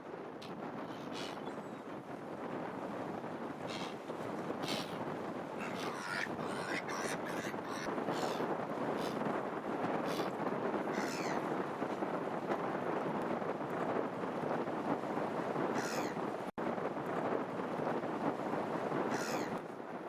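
Strong wind buffeting at the seaside in Orłowo, a constant loud roar and rumble of gusts with faint bird calls and no talk.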